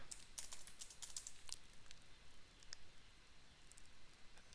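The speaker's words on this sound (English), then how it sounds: "So this is the place where you can type the prompt." Quiet, quick clicks of fingers typing a prompt on a computer keyboard, bursts of keystrokes followed by sparser taps, close and soft with no voices.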